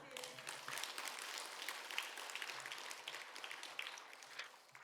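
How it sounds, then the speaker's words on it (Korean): A church congregation claps together in a steady wash of applause, moderately distant and sustained for several seconds, with faint voices underneath. "은혜 주신 하나님께 영광의 박수."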